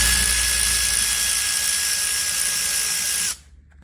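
A Milwaukee power tool runs in one steady high-pitched whine while taking bolts off a fuel pump on a Cummins ISX engine, loud and close, then cuts off abruptly near the end.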